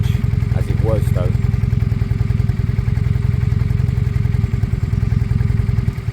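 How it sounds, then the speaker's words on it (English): An engine on an abandoned motorcycle that is being restored idles steadily with a rapid, even throb. It sits loud and close throughout, and a brief voice comes through near the start. "That's a lovely idle."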